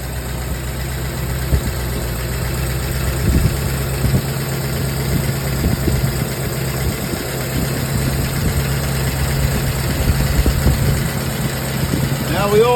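A 1952 Buick straight-eight 263 engine idles steadily and loudly right after starting, with a continuous low rumble and faint ticking vibration throughout, no voices.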